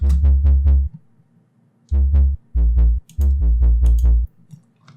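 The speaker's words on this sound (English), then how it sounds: "I have the bass. This one is deep." A deep, heavy Serum synth bass plays sustained low notes in short future bass phrases, with gaps of near silence between them.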